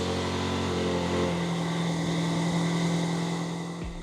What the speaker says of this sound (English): This is the current sound outside of the truck